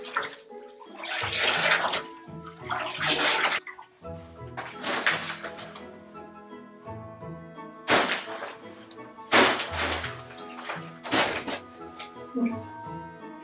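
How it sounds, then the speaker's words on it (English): A bathtub fills with warm water for washing a wig, the flow rushing and splashing close by in uneven surges and bursts across the stretch. "Fill up a bathtub with warm water."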